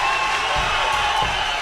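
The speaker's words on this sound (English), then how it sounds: "the crowd goes wild" Crowd at a Hardrock MMA event roaring and cheering for a young fighter after a stoppage win, a dense, steady wall of noise with a few sharper whoops and thumps rising out of it.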